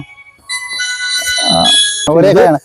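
A mobile phone ringtone plays a bright, melodic run of sustained electronic tones, then a person speaks briefly over the end of the ring.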